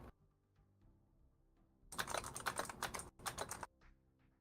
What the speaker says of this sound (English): We can hear that because you're typing on the keyboard.